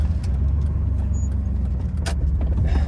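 Steady low rumble of road traffic with a nearby truck stopped in the way on an LA street, engine noise constant and close for the whole stretch, no voices.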